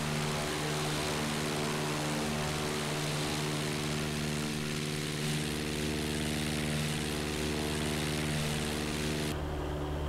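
A propeller-driven airplane engine in a flight simulator game drones steadily and loudly with a constant harmonic hum throughout, changing tone abruptly near the end as the view shifts.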